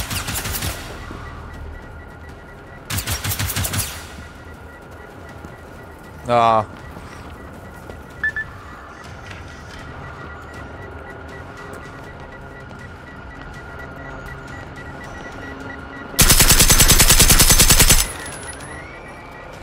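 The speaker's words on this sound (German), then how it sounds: "Sauber daneben geschossen." Automatic gunfire in the video game Generation Zero: three loud bursts of rapid shots, one early, one near the start and a longer one toward the end, with short clicks between, over steady game ambience and a brief voice.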